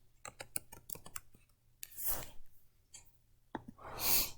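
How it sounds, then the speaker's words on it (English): Quick, light clicks of fingers typing on a computer keyboard come in a close, irregular burst, followed by softer breathy rustles and a pause. "I can just type in October"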